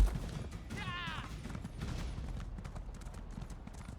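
Steady clip-clop of a mount's hooves in Elder Scrolls Online, continuous rhythmic hoofbeats at close range over a low rumbling ground bed, with a brief whinny-like tonal call early on and no talk.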